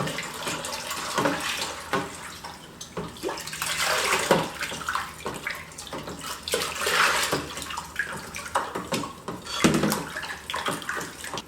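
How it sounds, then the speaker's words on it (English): Salt and Dylon dye are stirred into a basin of water, giving sloshing and swishing splashes in irregular waves, close and fairly loud, with no talk. "Right, and then we stir in the dye."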